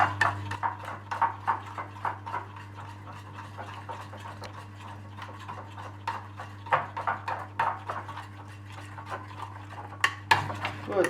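Sesame paste sauce being stirred hard in a bowl to break up lumps: a quick, regular run of light utensil scrapes and clinks against the bowl, close and steady over a constant low hum.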